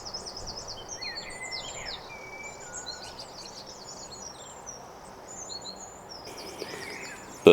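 Birds call outdoors in a run of high, quick chirps and twittering phrases. The calls come from several directions over a soft, steady background hush, with no voices.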